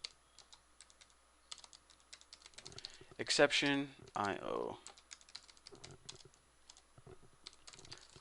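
Light, fast clicks of typing on a computer keyboard while coding a Java program, faint and intermittent throughout, with someone speaking briefly in the middle.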